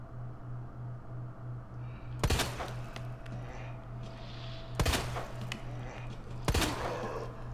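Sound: gunshots in the video game Resident Evil 2 Remake

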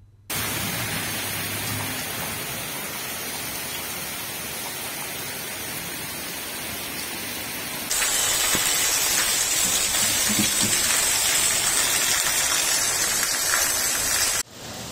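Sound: continuous rain

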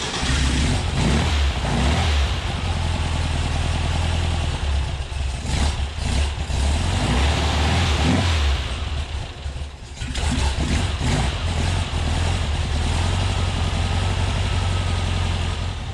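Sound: Porsche 356 engine running on new Chinese dual carburetors

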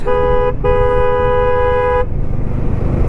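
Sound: motorbike horn honking on the road

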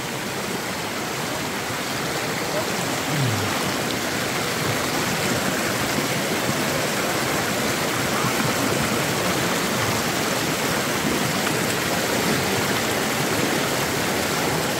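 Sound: stream flowing over stones

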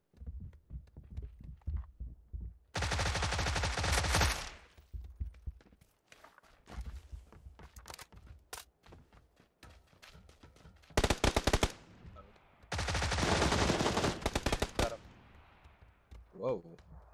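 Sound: gunshots in video game PUBG

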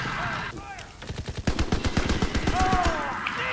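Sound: gunfire in Call of Duty WWII video game

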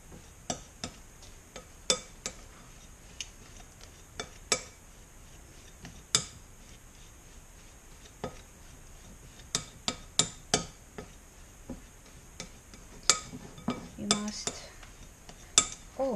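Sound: mixing bean flower paste ingredients in a bowl

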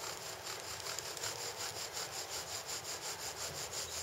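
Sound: bow drill spinning cottonwood spindle in second divot

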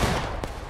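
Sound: gunfire in video game War of Rights

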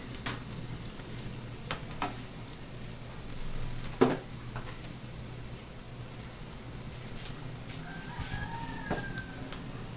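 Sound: ginger and garlic sizzling in a pan

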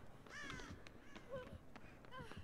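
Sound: crow cawing in Dead by Daylight video game

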